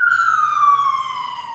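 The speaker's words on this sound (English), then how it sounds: "the sirens distracted me a little" An emergency vehicle siren wails loud and close, a single clear tone sliding slowly downward over a second and a half with nothing else heard.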